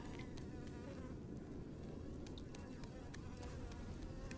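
Flies buzz steadily and close in a grimy prison sewer in the game Ghost of a Tale, a continuous insect drone over a low rumbling ambience with no talk.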